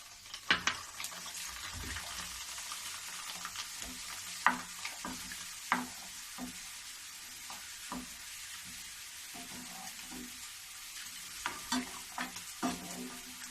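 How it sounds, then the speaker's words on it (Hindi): Sago pearls are dropped bit by bit into a pan over a low gas flame and stirred, giving quiet frying sizzle and scattered scraping clicks of a spoon against the pan at irregular intervals. "अब इसी में मैं साबूदाना डाल रही हूँ, थोड़ी थोड़ी करके डालूंगी"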